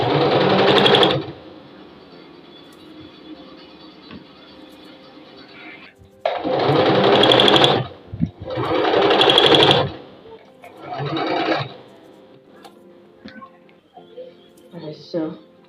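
A sewing machine stitches the back seam of a pencil skirt in loud, steady motor bursts, about four runs of varying length separated by short pauses, with quiet handling sounds between them.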